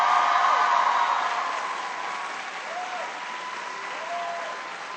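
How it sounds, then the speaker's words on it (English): An audience at a school event claps in a steady, full round of applause that eases off slightly and keeps going, with a few voices faintly calling out through it. "Please give her a big round of applause"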